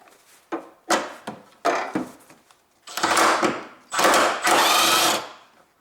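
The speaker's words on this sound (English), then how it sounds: "there is my socket and extension, and I take this my" Power driver with a socket and extension loosening the 14mm upper bolts on the left engine mount of a Honda Civic 1.8 R18A1: short bursts of whirring, then two longer loud runs close by.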